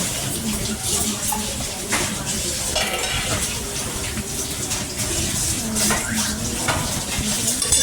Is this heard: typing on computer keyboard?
no